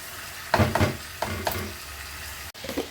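Grated tomato, about two tomatoes, going into frying chicken curry, stirred with several loud scraping, sizzling bursts near the mic, then a quieter stretch and a final short clatter.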